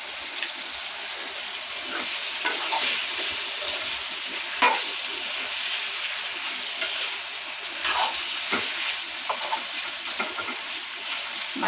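Eggplant and tomato curry sizzles in a pan while being stirred, a steady frying hiss broken by scattered scraping and clinking strokes from the spoon, with no talking.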